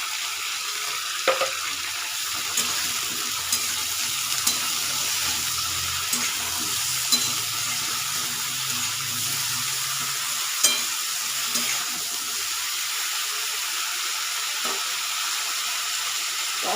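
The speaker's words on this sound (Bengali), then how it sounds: "আলুটা ভাজা হতে হতে অন্যদিকে মশলাটা রেডি করে নেব।" Potatoes sizzle steadily in a pan with salt added, with repeated scraping stirs and light clinks over a continuous hiss, close up and with no talking.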